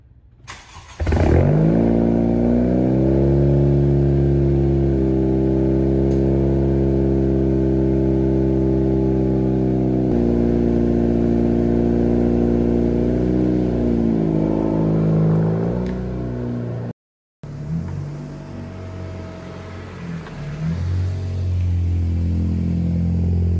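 A 2017 Honda Civic Si with a modified, snipped dual exhaust starts and settles into a loud steady idle hum, then revs and drops back, cuts briefly, and restarts into a rougher idle.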